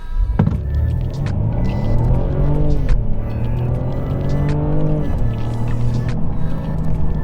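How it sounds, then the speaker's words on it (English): A Mercedes-Benz E300 with a 2-liter engine launches from a stop in Sport Plus mode, its engine rumbling loudly up through the revs with a few distinct gear changes, heard close from inside the car. "Let's see if I go in Sport Plus and then try to just launch on this light."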